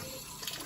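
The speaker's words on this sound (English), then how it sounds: "Purge the air and water through the high pressure hose, through the test kit, and out." Water and air rush steadily through the high pressure hose of a residential backflow test kit, a constant loud hiss with no pauses over a brief moment.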